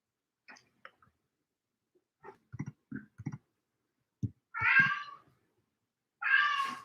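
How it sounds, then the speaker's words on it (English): A house cat meows twice, loud and close, between faint clicks and soft low thumps in an indoor room. "It's my cat over there."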